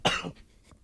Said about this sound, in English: We all have whooping cough.